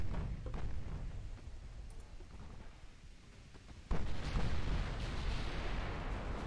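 A warship's ammunition magazine detonates in a naval battle in Ultimate Admiral: Dreadnoughts, a distant rumbling boom that swells abruptly midway into a louder, sustained roar of blast and debris, with no talk.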